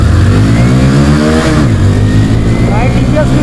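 TVS Victor 110cc and Hero HF Deluxe 100cc motorcycles accelerate side by side in a drag race, their engines droning loudly and rising in pitch as they rev, with a voice talking over the continuous engine noise.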